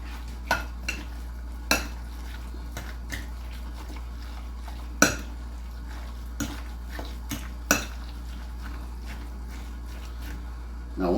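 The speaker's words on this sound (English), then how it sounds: "Completely mix everything together." A spoon clinks and scrapes in a bowl while Louisiana seafood cake mixture is stirred, sharp taps scattered irregularly over a quiet background, close and fairly soft.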